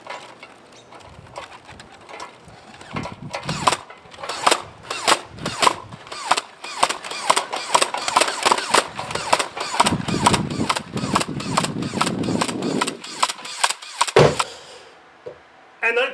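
A belt-fed Nerf EIR foam blaster fires in a rapid, continuous string of mechanical thumps, running on for over ten seconds before it stops abruptly when the ammunition belt runs out.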